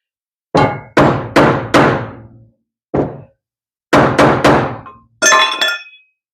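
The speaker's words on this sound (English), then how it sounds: "We'll tap her on with a screwdriver." Screwdriver tapping on metal parts during teardown of a 1978 250 4x4 conversion project: a run of four sharp knocks, a single tap after a pause, then three more and a final clinking hit, all close and loud with no talk.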